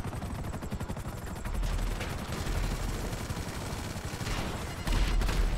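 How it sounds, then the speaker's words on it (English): Dense, loud rattling gunfire and a blast rumble from a GTA 5 Online session fill the scene continuously, with heavy low booms swelling near the end. "That was a nice explosion."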